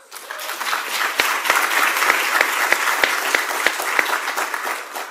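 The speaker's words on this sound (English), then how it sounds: "One more round of applause for Soledad and Bob Hurst" Audience applause at an Aspen community talk event, a steady wash of many hands clapping at moderate loudness, sustained evenly for several seconds.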